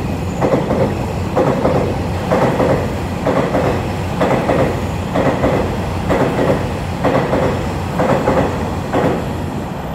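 An EMU3000 twelve-car electric multiple unit express train passes close by, its wheels beating out a steady rhythmic clickety-clack over rail joints, loud and continuous with a broadband rushing roar.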